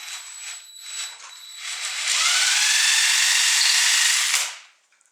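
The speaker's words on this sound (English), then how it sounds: "this is a 3/8 drill, so this is the biggest bit I can get" A handheld power drill bores a 3/8 inch hole into the wooden buttstock of a Browning Auto 5 shotgun, spinning up to a loud steady whine for about two seconds, then winding down.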